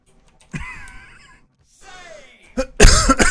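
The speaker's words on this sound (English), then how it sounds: "Sorry, coughed straight into the mic." A single person coughs straight into a close microphone during Overwatch play, a few harsh loud coughs near the end after some quiet vocal sounds.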